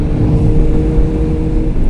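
A 2000 Kawasaki ZX6R motorcycle with changed sprockets and an aftermarket exhaust, its engine held at a loud, close, steady high-pitched rev with a buzzing, droning tone throughout.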